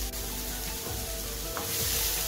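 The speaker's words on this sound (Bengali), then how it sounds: "ক্যাবেজগুলো নাড়তে থাকবো, এগুলো নরম হয়ে যাবে নাড়তে নাড়তেই" Shredded cabbage fries in a pan as it is stirred until soft, giving a continuous close sizzle with a faint rise near the end and no voices.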